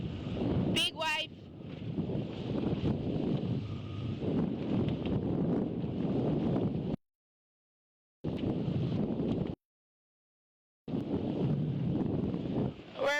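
Wind blowing straight off the land down from Mount Wellington buffets the microphone aboard a V70 racing yacht nearing the Hobart finish, a loud steady roar of gusts with brief dropouts to silence.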